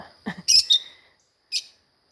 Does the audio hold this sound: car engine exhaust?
no